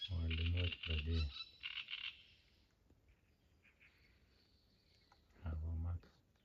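Frogs croak in bursts at evening near a lagoon fishing jetty, loud rapid pulsed calls at the start and again near the end, with a quieter stretch of faint insect and bird sounds between.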